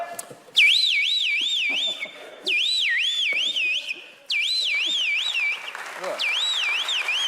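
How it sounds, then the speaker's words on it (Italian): A car alarm wails in repeated warbling bursts, each a rising and falling siren cycle lasting a couple of seconds, loud and close, with brief gaps and faint background sounds between them. "Che suona l'allarme."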